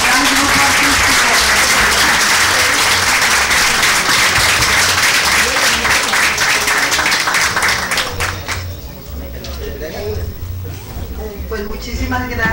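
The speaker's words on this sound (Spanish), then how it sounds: "Damos un caluroso aplauso a este gran grupo artístico." An audience gives warm, loud applause to a community artistic group, with sustained crowd clapping that fades after about eight seconds into softer scattered claps and background murmur.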